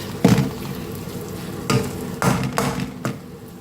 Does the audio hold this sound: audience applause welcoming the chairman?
no